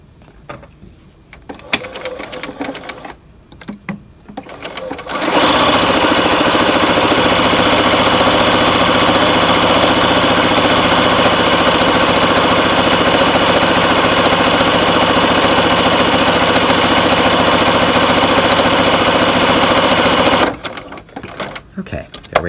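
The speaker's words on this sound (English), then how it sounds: "We want to sew with a zigzag." A sewing machine runs steadily for about fifteen seconds, stitching a zigzag along the folded edge of a sleeve, loud and close, with brief talk before and after.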